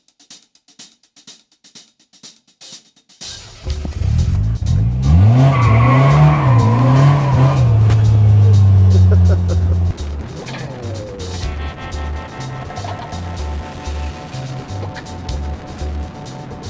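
Polaris Slingshot three-wheeler on the Vegas Strip: after a few seconds of quiet ticking, the engine roars up loudly and close with squealing tires, then settles into a lower idling rumble.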